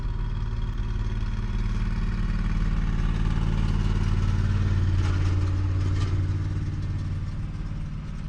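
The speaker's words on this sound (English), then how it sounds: "There goes the lawn tractor" Lawn tractor engine towing a little trailer, a steady low mid-range rumble with light clatter, passing moderately close and easing off toward the end.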